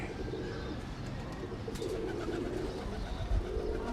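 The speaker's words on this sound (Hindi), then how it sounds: "बड़ा ही कमाल का कबूतर है।" A Teddy Ferozpuri breeder pigeon coos low and throaty, rolling on steadily and close by, repeated murmuring phrases over a busy background hum.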